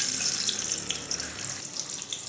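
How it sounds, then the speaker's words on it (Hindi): Eggs fry in hot oil in a kadhai over medium heat, making a steady, close sizzling hiss that continues without pause, with no voices. "अब हम अंडों को कढ़ाई के अंदर फ्राई कर लेंगे।"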